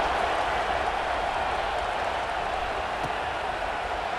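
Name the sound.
stadium crowd cheering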